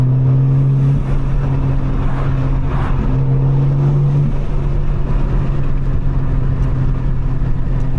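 Tuned 750hp BMW G82 on the road, its engine and intake giving a loud, steady droning hum from inside the car with a slight rise in pitch partway through, continuous for the whole stretch with no voices.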